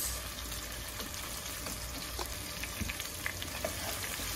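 Onions sautéed with a little salt in a pot give a steady, soft sizzle, with faint spoon scrapes and taps as they are stirred, close up and without voices.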